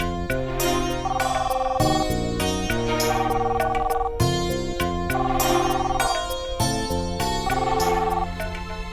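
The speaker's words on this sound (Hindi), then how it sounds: "और ये फोन का घंटे कब से बज रहा है? वो भी इतना जोर जोर से।" A telephone rings loudly and continuously in a home during a Hindi TV drama, its bright, melodic ringing repeating in a steady pattern for the whole stretch.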